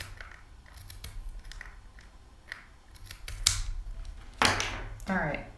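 Several crisp snips of sharp scissors cutting through cloth for a newborn hat, close by, with faint rustling and handling noises between the cuts.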